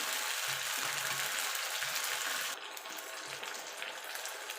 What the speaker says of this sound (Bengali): মশলাটা কিন্তু ভালো করে কষিয়ে নিতে হবে